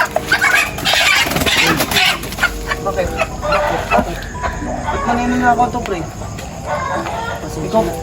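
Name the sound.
chickens clucking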